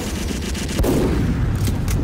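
Rapid gunfire from Team Fortress 2, a dense burst of repeated shots with a heavier boom partway through, loud and close with no talk.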